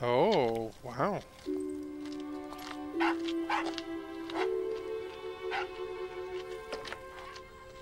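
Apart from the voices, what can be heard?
dog barking in the video game Tender Loving Care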